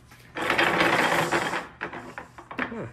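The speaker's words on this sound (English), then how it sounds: "now we're going to press in our seal" A seal being pressed into a Honda S2000 differential during a junkyard rebuild: a loud, sustained mechanical whirring grind for about a second, then scattered metallic clicks and taps nearby.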